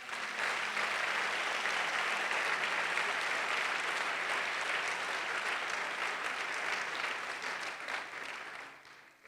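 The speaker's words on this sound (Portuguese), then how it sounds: "Se eu fosse você, aplaudir o Senhor." A church congregation applauds in a sustained, dense wave of clapping that holds steady for several seconds before fading at the end.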